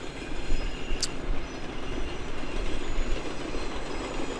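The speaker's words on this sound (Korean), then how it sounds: "석탄을 실은 기차가 지나가고 있습니다." Coal-laden train rolling past in a snowy former mining town in extreme cold, a steady broad rumble of wagons with faint wheel clatter and a brief high squeal near the start, no voices.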